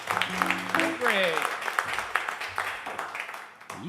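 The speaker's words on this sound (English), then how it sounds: "You folks clap loud." Audience applause at a live bluegrass radio show, a crowd clapping together for a few seconds under the host's voice and a ringing instrument, fading as talk carries on.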